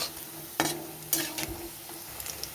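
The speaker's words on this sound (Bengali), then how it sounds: "বাকিগুলো আমি দিয়ে দিলাম, একই রকমভাবে ভেজে নিচ্ছি" Mixed vegetable gram-flour pakoras fry in oil, a bright hiss with a few sharp spatula scrapes and knocks close by, and no voices.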